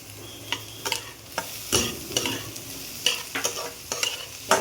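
Capsicum sizzling in a pan for a paneer dish, with repeated sharp scrapes and clatters of a spatula stirring at an irregular rhythm over a soft, steady frying hiss, close and without speech.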